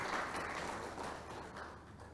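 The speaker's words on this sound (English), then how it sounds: "let's encourage him with a round of applause as he comes over" Meeting audience applauds an AGRA representative at a TAAT inauguration and planning meeting, giving a brief, fairly faint burst of steady clapping that tapers off within a couple of seconds.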